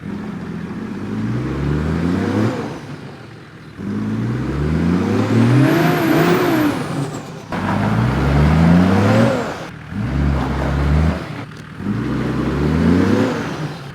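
Car engine in rain on slippery, muddy rocks on a steep track, revving hard in repeated rising surges with brief dips between pushes as the car struggles for grip, loud and close.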